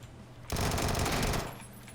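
A single burst of rapid automatic gunfire in the video game PUBG rattles out loudly for about a second, then drops back to quiet game ambience.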